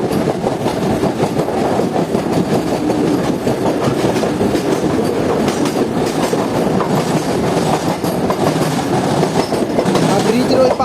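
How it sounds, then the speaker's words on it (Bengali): The 18006 Samaleswari Express from Jagdalpur runs toward Howrah Junction, heard close from aboard as a loud, continuous rumble with rhythmic clickety-clack of wheels over rail joints. "আর আমাদের ট্রেন যাচ্ছে এখন হাওড়া জংশনের দিকে।"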